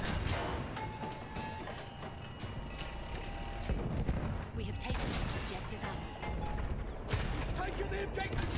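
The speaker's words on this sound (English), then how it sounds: "Wait for the enemy artillery to stop firing." Enemy artillery firing during a Battlefield 1 Rush match: repeated heavy booms and crashing impacts over a constant rumble of battle, with a voice speaking over them.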